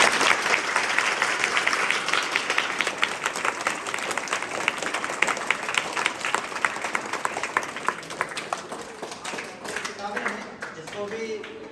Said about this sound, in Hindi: और जोरदार ताली